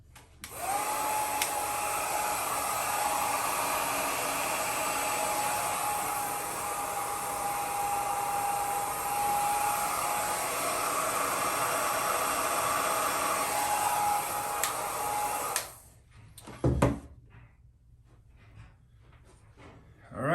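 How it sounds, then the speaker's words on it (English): A small hair dryer drying acrylic paint on a canvas whirs steadily with a high whine and airy hiss for about fifteen seconds, then clicks off, leaving quiet handling noises. "Definitely a good idea to use the smaller blow dryer because these are smaller canvases."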